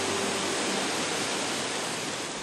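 A steady, dense roar of falling water from a waterfall on a forest river, loud and continuous, with no voices.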